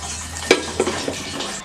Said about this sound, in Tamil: தண்ணியை வந்து இதிலேயே ஊற்றி நல்லா இதில் ஊற்றிடலாம்.